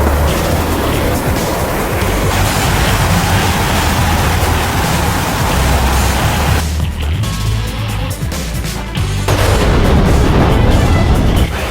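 Missile launches and explosions in the DCS World combat flight simulator, a loud continuous wash of booming rumble and roaring noise that dips briefly in the middle before surging back, with no talk over it.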